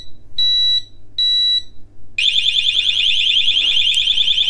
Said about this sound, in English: a little warning beep, and then if we continue, it will go to full 120 decibel